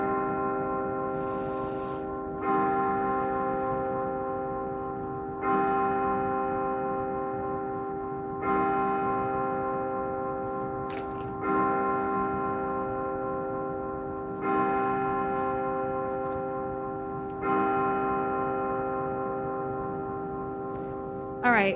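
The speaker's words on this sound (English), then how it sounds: "I'm trying to wait for the bell." A bell rings with a sustained, harmonic tone, struck again roughly every three seconds, each strike swelling and then slowly decaying, steady and moderately loud with faint background noise.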